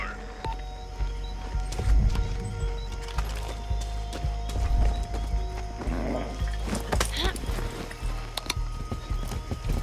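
Horse hooves clip-clopping at a steady gait in Far Cry 6, with a whinny rising midway, set against low rumbling game ambience and faint voices.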